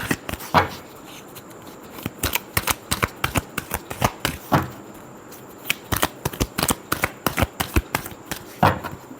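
Tarot cards are shuffled by hand in a rapid series of crisp riffling slaps and flutters, close and fairly loud, with brief gaps between bursts.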